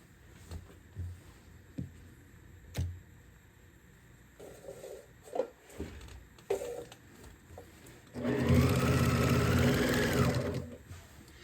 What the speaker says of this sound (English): zip both sides of this real quick with the sewing machine